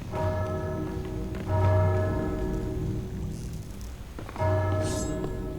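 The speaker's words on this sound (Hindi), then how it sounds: "जब भी ये घंटी बजे समझ लेने का कि नई वेव शुरू हुई है।" Ship's bell on a pirate ship in the video game Sea of Thieves, signalling a new wave: metallic ringing strikes repeating about every three seconds, resonant and loud over a steady low ambient rumble, with no talking.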